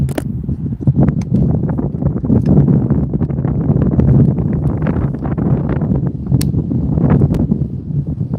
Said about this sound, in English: This Texas wind ain't playing with nobody.